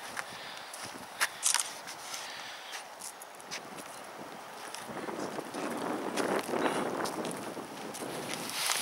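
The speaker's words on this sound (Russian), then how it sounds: "Ветер холодный дует, неуютно." Cold, gusty wind in Stockholm buffets the microphone with rushing, uneven noise, swelling stronger toward the end, with a few scattered knocks and no voices.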